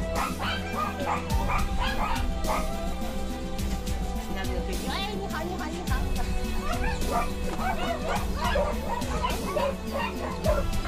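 Rescued dogs, some wounded, bark and whimper while being loaded into a transport truck during an emergency evacuation, amid voices and clatter, yelps and whines rising over steady background commotion.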